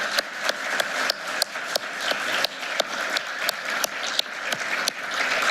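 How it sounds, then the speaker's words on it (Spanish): Steady applause from an audience filling an auditorium after a panel discussion on judicial criteria about corruption, dense clapping with a few sharper claps standing out, sustained at even loudness throughout. "Pido por favor un fuerte aplauso para ellos."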